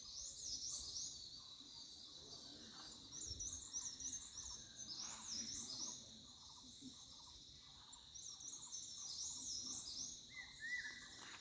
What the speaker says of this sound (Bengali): পাখির আওয়াজ চতুর্দিক থেকে আসছে।